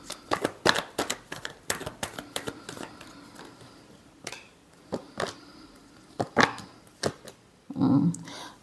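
Tarot cards being shuffled by hand in a series of quick, crisp riffles and flicks, close and fairly quiet, with short pauses between bursts and a longer rustling riffle near the end.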